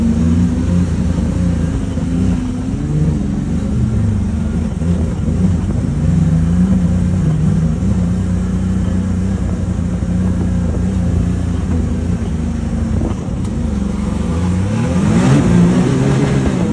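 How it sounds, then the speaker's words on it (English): A Can-Am Maverick R off-road vehicle engine runs loud and steady, with a rising rev toward the end, heard alone without talk. "the Maverick R is it"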